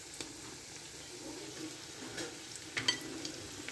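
Tuna fish kebabs frying in hot oil, a soft steady sizzle with occasional crackles and pops, fairly quiet and close, without talk.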